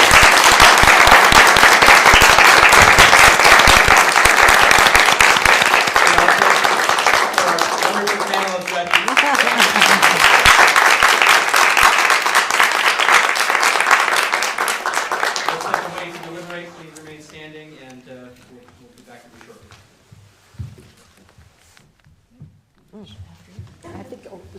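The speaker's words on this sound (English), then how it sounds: "If you'd all briefly join me in applause for" Audience at a law school moot court competition final applauding loudly and steadily for about fifteen seconds, then fading to quiet with a few scattered claps and murmurs.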